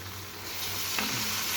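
Garlic ginger paste frying with onions in a pan for a dhaba-style keema pyaz, a steady close sizzle with a soft stir partway through.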